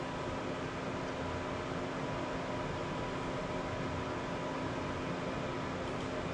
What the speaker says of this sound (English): it's now sucking in your sample, and it's going to count each individual cell one at a time